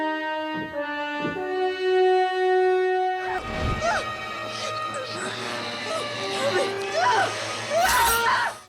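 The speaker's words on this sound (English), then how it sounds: "I laid that screaming violin. I must have probably laid 3 or 4 of them" Three or four layered screaming violins in a film score rise into a shrill, piercing, harsh, dissonant wail over crashing orchestral hits, loud and chaotic.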